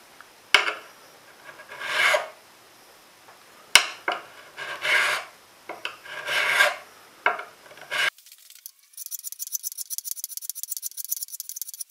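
A rasp files the crowns of guitar frets on an ES-335-style build in several separate rubbing strokes, close and moderately loud, followed by a steady high-pitched scratchy hiss of finer dressing.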